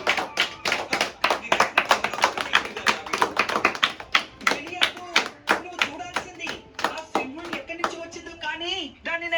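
Audience clapping in quick, sharp bursts, dense and rhythmic at first and then thinning into scattered claps while a voice talks over them, fairly close and loud.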